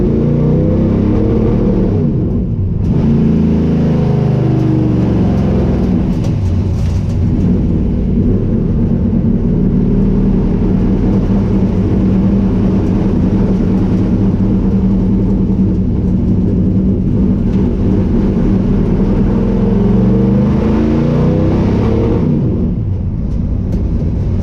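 A retired 2004 Nextel Cup NASCAR race car roars steadily from inside the cabin while lapping, a loud continuous engine drone that shifts slightly in pitch with a brief dip, no talking.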